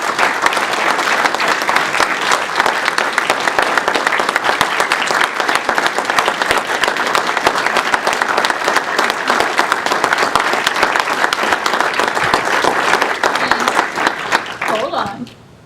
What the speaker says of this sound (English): let's all show a warm round of applause for Robin